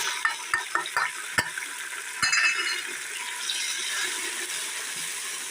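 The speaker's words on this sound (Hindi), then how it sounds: "अब हम इसमें अदरक लहसुन पीस भून लेंगे।" Ginger garlic paste frying with browned onions in a pot for beef nihari, a close sizzle under sharp clicking and scraping stir strokes, louder at first and then a steady hiss, no talking.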